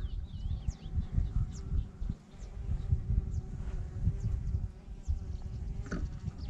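Wasps buzz outdoors around their nest, a continuous close drone with individual insects whining past, while faint bird chirps come through in the background.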